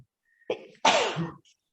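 A single sneeze during a town mayor and council meeting, a short intake followed by one sharp burst, moderately loud in an otherwise quiet room.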